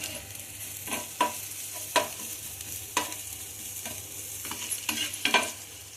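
Egg and bread mixture being stirred in a pan, with steady scraping strokes and soft clinks at an irregular rhythm over a low background hiss, close and moderately loud, no voices.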